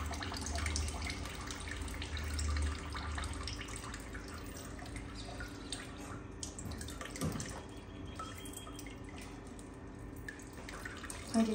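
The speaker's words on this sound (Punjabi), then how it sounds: "ਜਦੋਂ ਪਾਣੀ ਟਪਕਣ ਡਿਆ ਪਿਆ ਬੂੰਦ ਬੂੰਦ ਉਹਦਾ ਸਾਨੂੰ ਪਤਾ ਲੱਗ ਜਾਣਾ ਵਾ ਕਿ ਪਨੀਰ ਪੂਰਾ ਸੁੱਕ ਗਿਆ" Water drains from freshly made paneer hung to dry in cloth, a faint, steady trickle with soft drips in a quiet kitchen.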